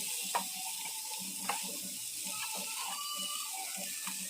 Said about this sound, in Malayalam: വെള്ളമെല്ലാം ഊറ്റിക്കളഞ്ഞ് മാറ്റി വെച്ചിരിക്കുന്ന ഇരുമ്പം പുളി ചേർത്ത് മിക്സ് ചെയ്യാം